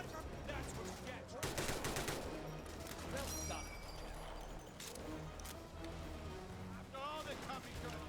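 Rapid gunfire from the World War II shooter game Raid WW2, with sniper fire among it: dense overlapping shots and bursts over constant game noise, while players talk over it.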